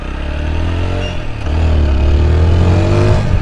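A motorcycle idles and is revved up as it is turned around, a loud, close engine drone that swells into a stronger, steady rev partway through.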